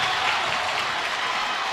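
A loud crowd at a high school basketball game between the Atascocita Eagles and San Antonio Brennan, heard during a free throw, roars and cheers as a steady, dense wash of noise throughout.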